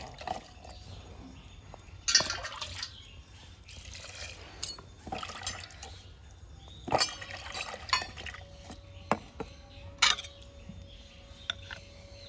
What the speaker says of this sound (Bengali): নারকেলটাকে কেটে খুব ভালোভাবে জল দিয়ে ধুয়ে নেব।